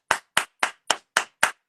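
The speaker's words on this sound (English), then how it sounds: "Clap for yourself." Six sharp, evenly spaced claps ring out one after another in a quiet room at a women's gathering, each crisp and isolated, with no voices.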